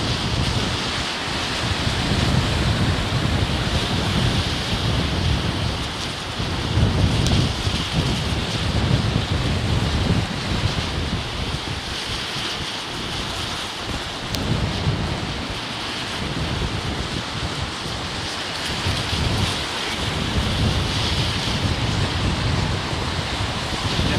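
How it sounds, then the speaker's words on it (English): Strong, blustery wind at London Heathrow Airport roars continuously, a broad rushing noise that buffets the microphone in gusts throughout. "it's definitely blustery, more blustery now"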